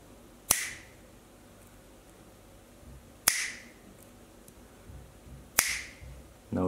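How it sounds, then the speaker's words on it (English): Three single hand claps, evenly spaced a few seconds apart, crack sharply and alone against a quiet room while a homemade ATtiny13 clap switch is tested. "Single clap."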